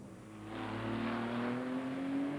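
A Porsche Cup race car from the 1995 Australian Grand Prix rejoins the track, its engine note rising steadily as it accelerates, loud and continuous with no voices over it.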